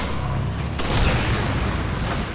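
Gunfire and booming blasts from the video game Resident Evil 5, a dense loud burst of shots that sharpens partway through, running continuously without talk.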